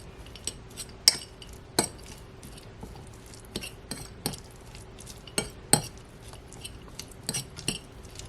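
Cutlery stirs cherry fruit spread into chicken salad, sharp metallic clinks against the bowl coming every second or so over quiet scraping, close up with no talking.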